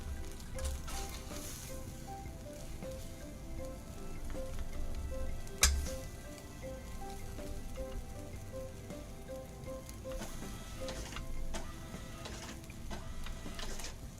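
Fast food grease sizzling in a pan while cooking, a faint, steady crackling hiss with scattered pops and one sharp spike, close and continuous.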